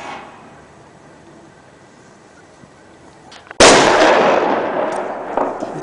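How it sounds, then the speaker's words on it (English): A large M80-style firecracker goes off with a sudden, very loud blast after a quiet stretch of street ambience, leaving a long crackling, rumbling tail, during Christmas fireworks in Jinzhou, China. "they got some big ass freaking firecrackers around here"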